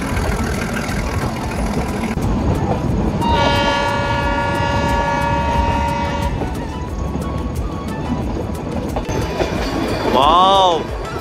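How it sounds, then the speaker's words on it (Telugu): A train on the Coonoor route rumbles steadily throughout, with a sustained horn-like tonal blast in the middle and a brief squealing or whistling sound near the end, heard from on board under faint background voices. "ట్రైన్ అయితే స్టార్ట్ అయిందండి ఇప్పుడే."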